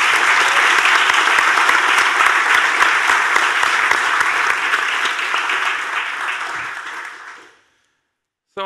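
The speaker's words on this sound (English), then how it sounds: "can you please give our panelists a warm applause?" A large audience at a panel discussion claps loudly and continuously for several seconds, then the applause fades out and stops, leaving brief silence.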